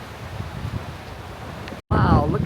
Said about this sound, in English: See how windy it is out here this beautiful day